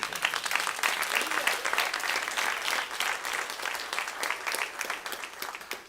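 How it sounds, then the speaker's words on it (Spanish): Church congregation giving a loud, sustained round of applause for the Lord, dense continuous clapping filling the room from start to finish. "Denle un fuerte aplauso al Señor, hermano."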